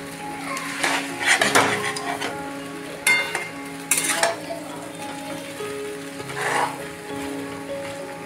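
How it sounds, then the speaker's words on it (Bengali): Chicken chow mein is tossed in a well-heated wok, with a low sizzle beneath repeated scraping and clattering of a metal utensil against the pan in bursts. "ভালো করে চিকেনের সঙ্গে খানিকটা চাউমিন দিয়ে আগে মিশিয়ে নেব"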